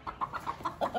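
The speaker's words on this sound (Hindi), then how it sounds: "और ये है मुर्गी मुर्गा" Aseel hen and rooster clucking, a quick series of about seven short, evenly spaced clucks close by, clear and unaccompanied by talk.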